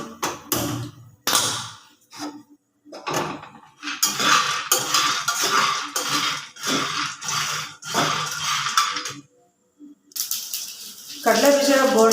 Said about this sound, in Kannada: ಈಗ ಫಸ್ಟ್ಗೆ ಹುರ್ಕೋಬೇಕು ಕಡಲೆ ಬೀಜ